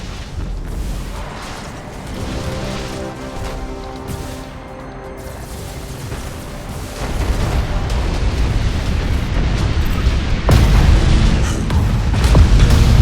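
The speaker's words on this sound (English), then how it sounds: "Tell them to detonate the mines. That explosion should clean our tails of these traitors." Space mines detonate in Battlefleet Gothic: Armada 2, a series of deep booming explosions and rumbling blasts that build into a heavier, sustained roar toward the end.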